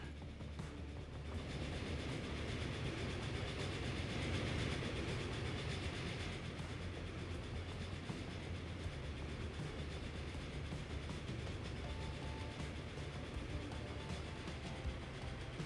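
Simulated passenger train in Transport Fever 2, a 25-year-old model, rolling steadily with a dense low rumble and faint rail clatter throughout, moderately close and unbroken, with no voices over it.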